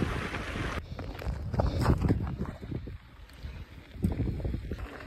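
Wind gusting across a mountain bike trail on the island of Pag, Croatia, a rough low rumble buffeting the microphone with rising and falling surges, no talk.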